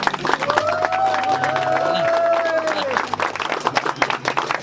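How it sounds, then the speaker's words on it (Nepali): Wedding guests clap together at a church ceremony, a steady mixed crowd applause lasting a few seconds, with voices and a sung or spoken tone rising over it, then thinning out. "ताली बजाइदिनु यो बेलामा सर।"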